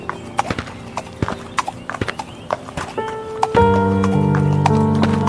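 Horse hooves clip-clop steadily along a road to market, with a neigh or whinny; a sustained music-like tonal layer swells in over the second half.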